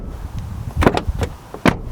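A VW T6 van door fitted with new Dirty Weekender seals swings shut, giving a couple of solid close thumps with a short rattle, then a firmer final slam, loud and close with no talking.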